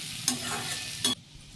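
Chana dal fries in a pan with salt as a spoon scrapes and stirs through it, two short scraping strokes over a steady soft sizzle, close and quiet with no voices.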